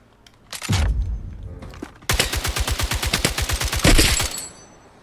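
Automatic gunfire in a video game, a weapon emptying its whole magazine in a rapid, steady burst of about twenty close, loud shots, preceded by a shorter burst and a thud.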